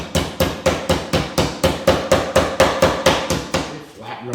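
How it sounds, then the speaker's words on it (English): The flat end of a meat mallet pounds meat flat under plastic wrap for Mongolian beef, about sixteen steady evenly spaced thuds, close and loud, with no talk. "Now I have a little mallet here."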